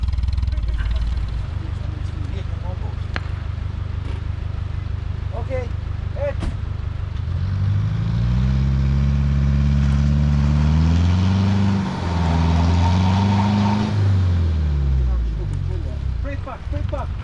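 A car engine strains to drag a large stone with a tow strap in Albania: a steady low idle rumble, then revs climb and waver up and down through the second half, loud and close.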